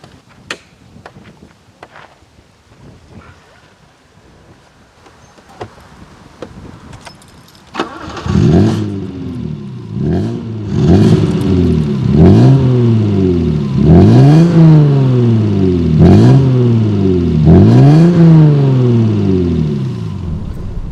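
Keys rattle and clicks come first, then an Alfa Romeo GTV6 Busso V6 cranks and fires up close by and blips through a series of rising and falling revs with a loud growl.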